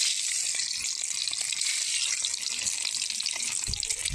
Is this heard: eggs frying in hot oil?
yes